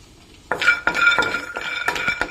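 Groundnuts roasting in a pan, stirred with a spoon, giving a burst of dry rattling scrapes and clinks that start abruptly and repeat in quick strokes, loud and close.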